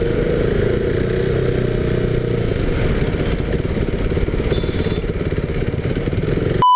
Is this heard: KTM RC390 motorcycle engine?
yes